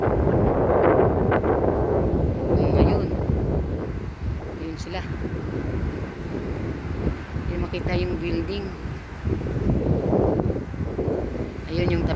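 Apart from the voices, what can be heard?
strong wind blowing during a sandstorm in Abu Dhabi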